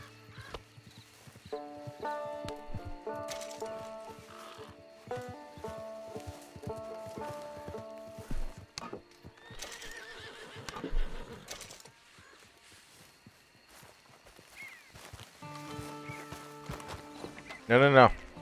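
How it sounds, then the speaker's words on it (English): A horse in Red Dead Redemption 2 neighs and whinnies over clip-clopping hooves, set among layered game sounds with a loud neigh near the end; a person talks intermittently throughout. "Alright, horsey."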